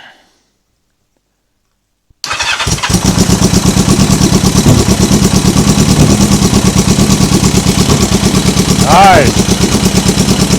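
A Yamaha XJ750 scrambler with a custom exhaust fires up after a brief silence and runs on choke at a loud, steady idle with a rapid, even pulsing, one short burst of speech near the end.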